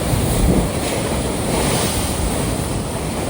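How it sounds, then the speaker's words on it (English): Sea water surging and splashing up through a hole in the rock on a Gran Canaria shore, a steady loud wash of surf with wind buffeting the microphone throughout. "watching this hole in the ground and the water splash up"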